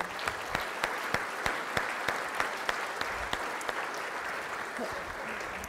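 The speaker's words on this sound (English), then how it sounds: "Ladies and gentlemen, keep the applause going one more time for David Galbally." Sustained audience applause at a book launch, a steady wash of many hands clapping with a few sharp individual claps standing out, filling the room throughout.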